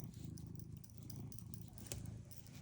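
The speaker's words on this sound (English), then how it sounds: "Foodie, have you heard Julia purr like this?" Julia the cat purrs in a soft, continuous low rumble close up, with a brief sound of movement partway through.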